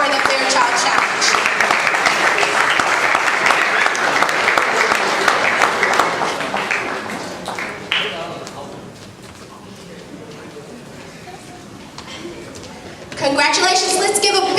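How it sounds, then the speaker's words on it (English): Loud, sustained audience applause fills a high school awards ceremony, dense clapping for about eight seconds that fades, then a fresh burst of clapping near the end. "Let's give a big round of applause to these schools."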